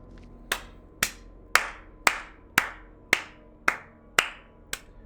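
Hands clap slowly and steadily, about nine sharp claps spaced roughly half a second apart, close and distinct against a quiet background, with no talking.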